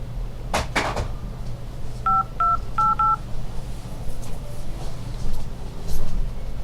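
A house phone is dialed: after a couple of handling knocks, four or five short, clear touch-tone beeps sound close by in quick succession, then a quiet room with faint movement.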